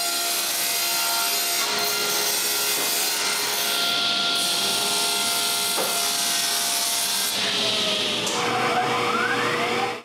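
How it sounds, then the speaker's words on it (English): Saw cutting through 3mm thick plywood in a woodshop, a loud continuous rasping and whining cut with shifting pitch, close up and with no talking. "I can go to the shop and cut pieces of 3mm thick plywood"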